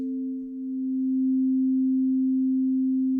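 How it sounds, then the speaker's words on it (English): Synthesizer oscillator holding a pure steady tone with a long release, a single sustained hum with one faint overtone, close and even, with a slight dip in level near the start. "Let's use an oscillator for now, because then I can get some sounds out of that in a really easy way."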